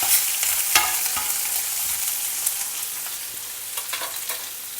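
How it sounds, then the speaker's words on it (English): Onion slices sautéing in a pan with a little chana dal, giving a steady, close sizzle with a few sharper crackles and stirring scrapes, and no talking. "Saute the onion slightly."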